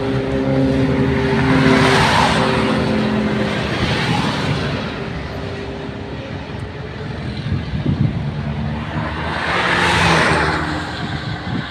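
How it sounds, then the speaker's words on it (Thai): Steady inbound highway traffic on the road into Bangkok, a continuous broad roar of passing cars and trucks, swelling louder at the start and again near the end as vehicles pass close by. "ขาเข้ากรุงเทพรถติดมากครับ"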